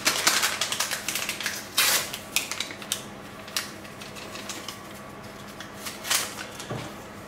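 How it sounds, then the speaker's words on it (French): Yogurt cake batter is mixed with flour and yeast in a bowl, giving a run of quick, irregular clicking and tapping strokes, close and moderately loud, with sharper knocks now and then and no talking. "on va bien mélanger."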